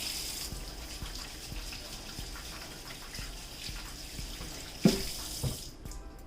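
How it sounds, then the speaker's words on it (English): Tap water runs steadily into a kitchen sink while hands are washed, a continuous close hiss and splash with brief louder splashes near the end as the flow stops. "I'm gonna wash my hand, wash it off like this, then use the soap"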